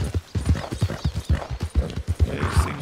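Horse hooves clip-clop in a steady, evenly spaced trotting rhythm in the video game Red Dead Redemption II, close and clear with no talking.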